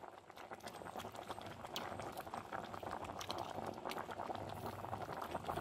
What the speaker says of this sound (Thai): หม้อเริ่มเดือดแล้วจ้า